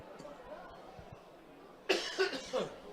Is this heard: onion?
no